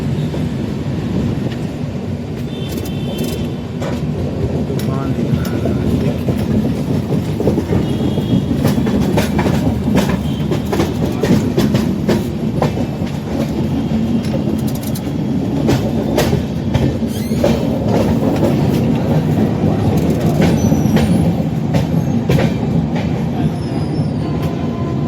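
The 20506 Dibrugarh Rajdhani Express, travelling via Bogibeel, runs along the rails with a steady rolling roar and continuous clickety-clack of wheels over joints, heard from inside the moving coach, with no talk.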